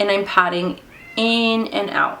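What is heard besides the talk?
cat meowing behind a locked door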